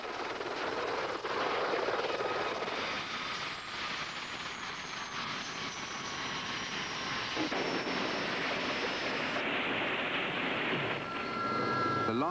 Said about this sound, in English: Like any machine, a helicopter can go wrong and crash. The most catastrophic failure is the loss of the tail rotor.